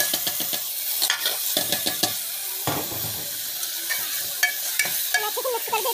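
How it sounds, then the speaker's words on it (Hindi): Rice stirred with cumin and chili in a hot pan, a scraping, clattering spoon over a steady sizzle, with irregular knocks against the pan and no talking. "मैं अच्छे से मिक्स कर देती हूँ।"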